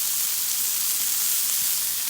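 Stuffed bacon cheeseburgers sizzle steadily on a Blackstone griddle, a continuous bright hiss of frying fat holding even and close throughout, with no voices.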